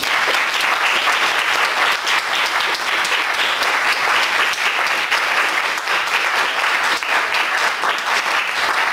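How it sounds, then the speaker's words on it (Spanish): A seminar audience gives Professor Jafet a final round of applause, a dense, even clapping from many people that continues unbroken for several seconds without speech. "que vaya un aplauso final para él"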